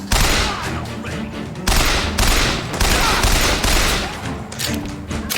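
Dense, loud gunfire in the BioShock Infinite video game, bursts of rapid shots rolling into one another in two heavy waves, with no talk over it.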